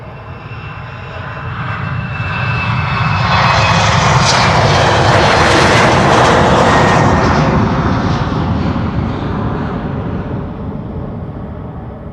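Jet airliner taking off at Amsterdam Schiphol during parallel departures, a loud engine roar that builds from a moderate rumble to a sustained peak, then eases slightly as the aircraft climbs away.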